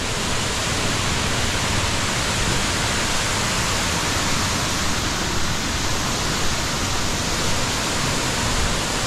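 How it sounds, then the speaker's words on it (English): A waterfall beside the Tennessee River in Knoxville roars as a steady, loud wash of falling water, continuous and close with no pauses. "Check out this nice waterfall right over here."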